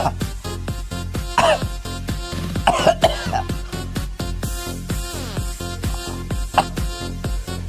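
Repeated coughing during a nasal cleansing practice, interleaved with a steady rhythmic beat underneath, several short harsh bursts spread across the clip, fairly loud and close.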